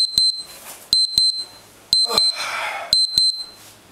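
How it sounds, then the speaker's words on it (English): An interval training timer sounds during a core and stretch workout, sharp electronic beeps in clustered pairs repeating about once a second, loud and close, with brief breathy noise between them. "My timer goes off every minute."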